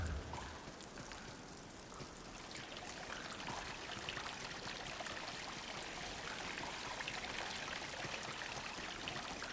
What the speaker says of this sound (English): I find it interesting that the water is flowing upwards.